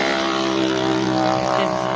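Tractor engine drones steadily and loud throughout the ride, the tractor hauling a load of 8000 bricks, a continuous harmonic hum with no break.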